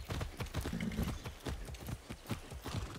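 Horse hooves clip-clop in a steady, quick rhythm in the video game Far Cry 6, loud and close, continuing throughout without talk.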